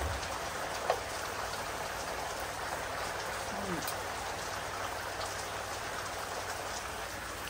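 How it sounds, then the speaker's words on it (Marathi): Heavy rain pours down in a village, a dense, steady hiss of drops on surfaces throughout, close and even, with one faint drip early on. "मस्त भरपूर पाऊस पडतोय"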